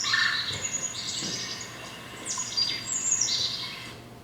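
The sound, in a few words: red-bellied woodpecker trill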